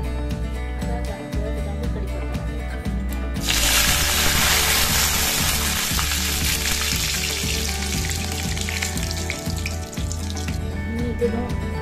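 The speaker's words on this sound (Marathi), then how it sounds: "राई चांगली चटली तर आपण नंतर आपल्याला त्यात कोथिंबीर टाकायची, कढीपत्ता टाकायचा आहे।" Mustard seeds spluttering in hot oil for a kanda pohe tempering, a dense close crackling sizzle that swells sharply a few seconds in and stays loud and continuous throughout.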